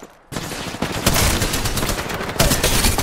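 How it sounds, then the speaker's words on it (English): Gunfire in the Apex Legends video game: loud, dense rapid bursts start after a brief quiet moment and keep hammering almost continuously, with no one talking. "Opening fire."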